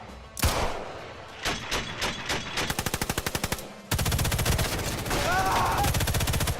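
Rapid bursts of automatic gunfire from the video game Sniper Elite 5, loud and close, some short volleys then long sustained rattling strings of shots, with a faint voice underneath.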